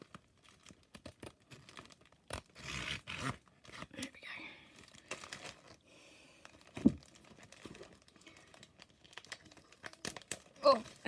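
Crinkly plastic packaging on a cross-stitch thread stash is cut open and torn, giving close, irregular crackles and rustling bursts, with a person speaking in between.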